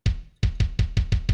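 Deep bass drum hits, six punchy booms close up, the first alone and the rest in a quick steady rhythm.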